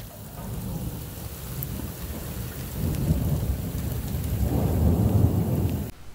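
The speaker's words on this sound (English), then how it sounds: "So this was the last storm just 3 days ago." Steady rain with low rolling thunder building gradually in strength over a gravel driveway in Illinois, a dense wash of falling water and rumbling throughout.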